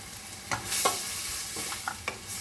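Tomatoes sautéing with salt in a pan for a sardine sauté, with a few quiet spoon scrapes and a soft sizzle across a short stretch, and no voices.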